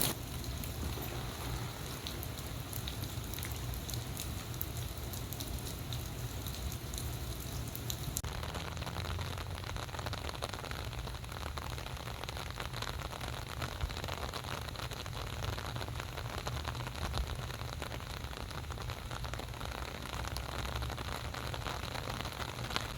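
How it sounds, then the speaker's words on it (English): Heavy rain pours steadily onto a park gazebo roof, a dense continuous hiss with a low rumble beneath, close and enveloping, with no voices. "I think I'm going to stay under this gazebo until the rain lets up a little bit."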